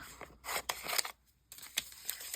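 Scissors cutting a drying piece of summer cover artwork. Several quick, close snips come in small clusters with short quiet pauses between them, and no talking.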